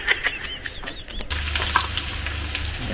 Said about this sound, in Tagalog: Yan ang sibuyas.